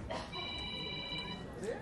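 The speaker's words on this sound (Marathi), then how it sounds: "कोणाचा फोन आहे? बंद करा ना जरा." A mobile phone ringtone sounds at an event amid crowd chatter, a short tonal electronic ring partly masked by voices and room noise.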